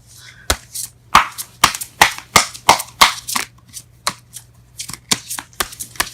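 A deck of tarot cards being shuffled by hand, a series of sharp riffling bursts and snaps in an uneven rhythm, close and crisp against a faint low hum.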